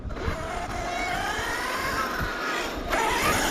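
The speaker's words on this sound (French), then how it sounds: "Bah, c'est le moteur du sledge." ARRMA Dirt Rat RC car with a 2000 kV motor, giving a steady high-pitched electric whine that holds continuously, with a slight surge near the end, close by.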